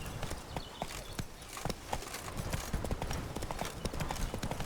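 Geralt's horse Roach trotting in The Witcher 3, a brisk, even clip-clop of hooves close by and fairly soft against a busy background.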